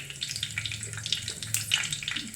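Fenugreek seeds splutter in hot oil for a fish curry, with scattered sharp pops and crackles over a continuous close sizzle.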